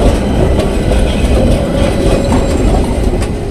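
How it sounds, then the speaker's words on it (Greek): A tram rolls past very close on a Milan street, with a loud, steady rumble of wheels on rails and faint rhythmic clacks and squeals. "Θα μας πατήσει το τραμ."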